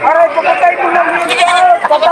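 Goats brought from Batangas City bleat at a livestock market, several wavering cries overlapping one another, close and loud, amid background chatter.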